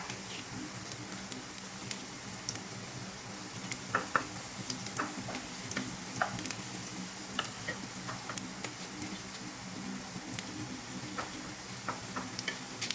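Garlic sizzles in a pan alongside hotdog slices, a steady crackling hiss with light ticking utensil scrapes scattered through, close and moderate in level, no talking.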